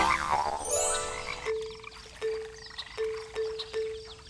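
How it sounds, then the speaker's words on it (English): Short, spaced croaks of a frog, a few low calls in a row following a brief noisy burst, fairly close and alone with no talking. "where the bullfrogs jump from bank to banky, going eep"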